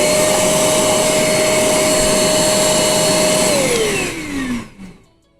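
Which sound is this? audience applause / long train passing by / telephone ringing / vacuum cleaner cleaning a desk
vacuum cleaner cleaning a desk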